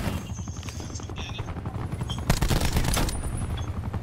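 Attack chopper in a multiplayer shooter game, its steady rotor drone running under dense bursts of gunfire and a louder volley midway; no speech.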